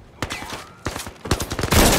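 Rapid gunfire in the VR shooter game Zero Caliber, bursts of sharp close shots in uneven clusters that grow denser toward the end, loud throughout.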